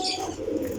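Pigeons, champion racing birds, give a soft, short coo that sounds close but faint, with no talk over it.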